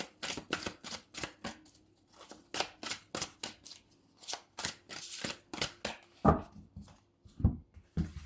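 Tarot cards shuffled in a quick run of crisp riffling flicks, close and fairly quiet, followed by a few sharper slaps as cards are drawn and laid down, with no talking.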